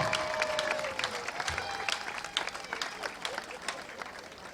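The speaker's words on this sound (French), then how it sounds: "Applaudissez très fort." Crowd applause at a political rally in Ntoum, Gabon, a dense patter of clapping at moderate distance that swells and thins over a few seconds, with a voice briefly heard at the start.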